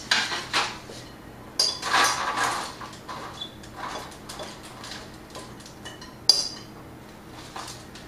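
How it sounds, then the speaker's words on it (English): Seasoned garbanzo beans being tipped and spread onto a metal baking sheet, with scattered rattling clinks and pan clatter in short bursts and a sharper clank near the end. "put these on a baking sheet"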